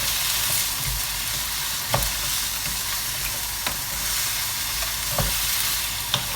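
Partially frozen prawns sizzle loudly and steadily in a frying pan, a dense crackling hiss broken by occasional clicks and knocks as they are stirred.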